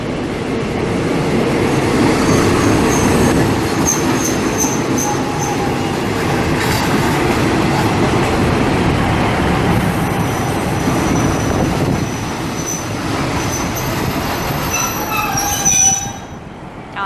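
A freight train rumbles into Nakhon Ratchasima station in the evening, steadily, with high metallic wheel squeals ringing over the roar, slowing and fading near the end.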